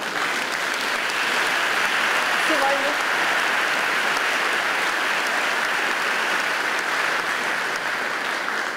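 An audience claps for the second-place finisher, a metalworking shop, at a craftsmanship award ceremony, with sustained, even applause throughout and faint voices mixed into the crowd noise.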